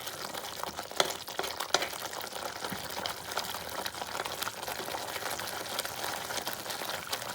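Butter simmering into ghee in a pan while it is stirred slowly, giving a soft, steady bubbling sizzle broken by occasional sharp clicks from the stirring utensil.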